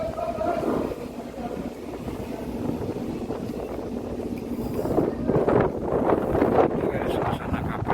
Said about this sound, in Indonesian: Angin cukup kencang di daerah Sungai Bangka, mentok.